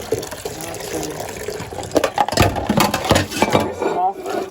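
Tap water runs steadily into a kitchen sink while dishes are rinsed, a continuous splashing stream with irregular louder gushes and clatters toward the end, and a person speaks over it at times.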